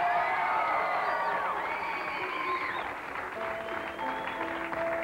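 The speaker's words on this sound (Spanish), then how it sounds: "Bueno, aplauso para Socha y viene." Studio audience applauding a performer on a 1991 Puerto Rican television variety show, steady clapping with a few cheers and whoops over music tones, continuous for several seconds at moderate loudness.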